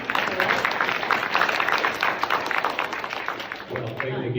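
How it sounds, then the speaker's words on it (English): Audience applause at a King County Executive candidate forum in Issaquah, Washington, steady clapping from a room of people that dips briefly near the end. "We can clap"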